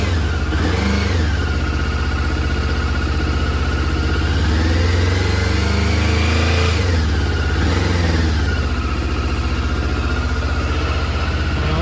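A 1989 Honda CB1 four-cylinder motorcycle engine runs steadily close by, still on choke, holding a buzzy idle with a few rising and falling revs and no talking over it.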